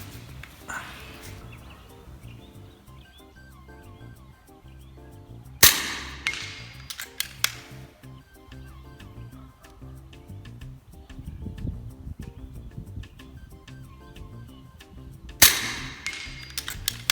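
FX Crown air rifle firing outdoors in wind, two sharp, loud cracks spaced about ten seconds apart over a quiet breezy background with faint clicks and handling noise.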